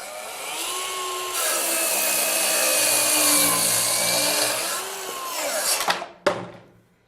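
A Festool HKC 55 cordless 18-volt brushless track saw runs along a guide rail, slicing through wood in one sustained, loud cut that winds down near the end, followed by a couple of sharp knocks.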